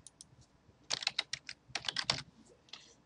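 Keys on a computer keyboard are tapped while a password is typed into a web login form: quiet, close, crisp clicks in two quick bursts with short pauses, and no talk.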